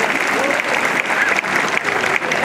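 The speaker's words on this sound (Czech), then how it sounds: "Velký potlesk Gaudeamu ještě jednou" A crowd at the closing award ceremony of the Strážnice international folklore festival applauds in a loud, sustained wash of clapping that is close and continuous for the whole stretch.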